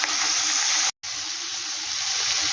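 A pan sizzles steadily with a bright, hissing fry, close and even, interrupted by one brief silent dropout, with no talk.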